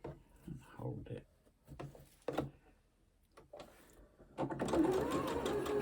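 A sewing machine stitching a seam on a jelly roll quilt, a fast, steady whirring run near the end, after someone speaks over quiet handling sounds.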